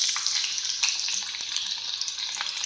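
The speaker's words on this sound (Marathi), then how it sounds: "आपण याच्यामध्ये जिरं टाकून घेऊया त्यानंतर आपण याच्यामध्ये हिरव्या मिरच्या टाकून घेऊया" Cumin seeds and green chillies sizzle in hot oil in a pan, a steady close crackling fry with small pops, heard alone without talk.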